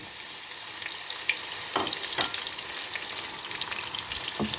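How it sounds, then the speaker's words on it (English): Chopped onions sizzle steadily in about two and a half tablespoons of hot oil in a pan, a close, continuous crackling fry with a couple of soft stirring scrapes and no talk. "So into that we're going to add the onions."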